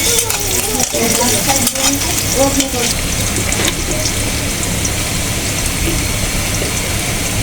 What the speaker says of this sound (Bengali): আমি কড়াইটা বসে দিছি তেলটা দিয়ে দিছি পেঁয়াজটা দিয়ে দিছি